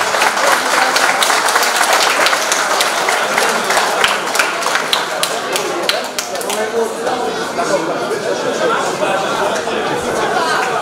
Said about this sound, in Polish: Wielkie brawa dla Kuby.